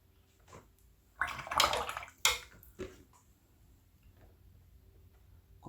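A watercolour brush is dipped and swished in water, making a few short splashing and clinking bursts in the middle, then quiet trickles fading away, close and fairly faint.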